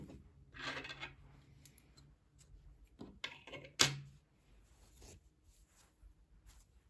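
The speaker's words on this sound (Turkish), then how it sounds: "İpliği burada kesiyorum." Scissors cut crochet thread on a dress, with a soft rustle and then one crisp close snip, followed by light handling noises.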